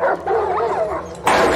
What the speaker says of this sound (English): all these dogs are psychos